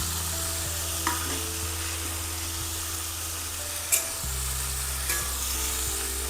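Potatoes are tossed into a pan of fried onion, garlic and green chili and stirred. There is an even sizzle with a few distinct spatula knocks, over quiet background music.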